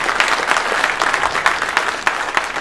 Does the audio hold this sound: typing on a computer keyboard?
no